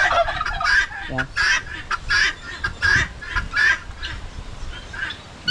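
Turkeys on a farm gobble close by in a quick string of repeated bursts, about a dozen loud, rattling calls spaced in uneven rhythm against faint background noise.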